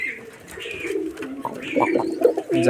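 A Rajshahi Giribaz pigeon coos softly at close range in a short run of low, throaty calls, with faint background noise and no clear speech.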